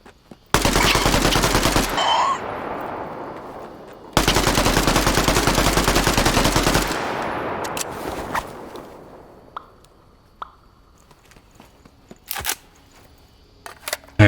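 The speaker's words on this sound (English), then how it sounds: "This is a submachine gun. The SMG fires faster than the automatic carbine," Submachine gun in the Zelter video game firing two long, loud, rapid automatic bursts of about a second and a half and two and a half seconds, followed by quieter scattered clicks and small game sounds.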